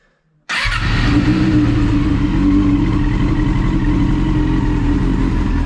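A Yamaha R6 sportbike with carburetors that need synchronizing starts abruptly after a brief silence, then idles loud and close with a steady, slightly uneven engine rumble.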